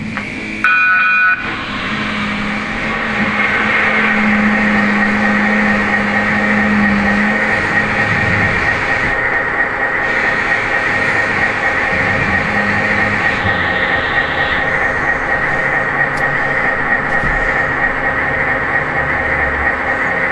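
An MTH C&O E-8 diesel model train set powers up, its sound system rumbling into a continuous loud diesel engine idle with a short brief tone near the start and steady droning throughout.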